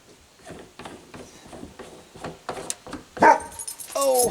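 A dog barks repeatedly in short bursts nearby during a home repair job, with a few louder, sharper yips toward the end over background clatter.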